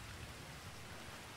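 Steady rain falling in GTA 5 Online, a faint, even hiss of drops with no talking over it.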